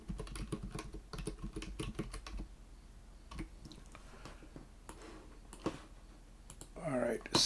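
Rapid clicks of a computer keyboard as an SQL query is typed, in quick bursts of keystrokes with short pauses, close and clear. A faint extra noise rises at the very end.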